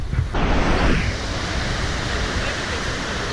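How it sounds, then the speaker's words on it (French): Rushing mountain torrent flowing through the town of Moena in the Dolomites on a rainy day, a steady broadband roar of water that stays loud and constant throughout, with a brief louder swell near the start. "Le torrent qui traverse Moena."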